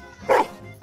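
A dog gives a single short bark, fairly close and alone, with a faint follow-up sound trailing off just after.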